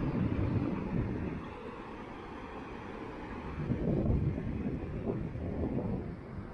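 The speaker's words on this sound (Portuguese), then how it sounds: "Pode ser que dê um sonzinho de vento ainda, porque tá ventando" Steady wind buffets the microphone outdoors near a beach, a low blustery roar that swells and eases, with no voices.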